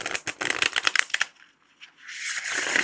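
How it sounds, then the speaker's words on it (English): Tarot cards being shuffled by hand, a burst of quick crisp riffling flaps followed by a short pause and then a smoother sliding rustle, close and clear with no talking. "That's a lovely shuffle."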